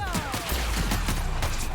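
Rapid gunfire bursts crackle in The Outer Worlds: Peril on Gorgon, dense overlapping shots layered with game effects and voices in a brief, loud exchange.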